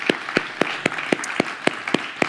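A small audience claps for a cerebral palsy association at a disability summit plenary session, with distinct, regular hand claps in a steady rhythm, fairly near and moderately loud, with no talking over them.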